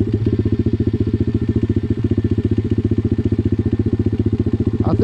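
An enduro motorcycle engine chugs in a steady, loud, rapid pulsing rhythm at low revs as the clutch is let out during a riding lesson, close by and with no voices.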